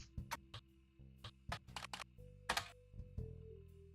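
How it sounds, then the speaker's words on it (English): Computer keyboard keys are typed in short irregular bursts of crisp clicks, near and quiet, over a faint steady hum from game music. "you really actually have to get into typing"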